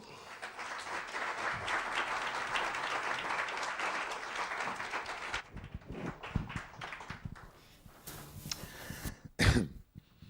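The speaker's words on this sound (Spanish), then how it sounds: "Un fuerte aplauso para él" An audience applauds at a book presentation, with steady clapping for about five seconds that thins into scattered claps, coughs and throat clearing as the room settles.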